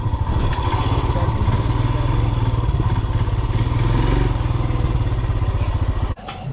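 A motorcycle on a mountain pilgrimage route near Bharmani runs with a loud, close, steady thrumming engine and rattling clatter. The engine drops away abruptly near the end.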